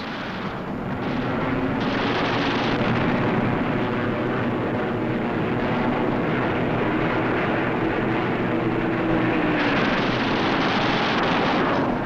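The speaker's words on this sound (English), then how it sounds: "Armor-piercing incendiary 50 caliber ammunition makes a flash when it strikes, and how it strikes." Armor-piercing incendiary .50 caliber machine gun fire from P-51 Mustang fighters of the Eighth Fighter Command in air combat, a dense, loud, continuous roar of rapid gunfire blended with aircraft engine noise throughout, with no talking.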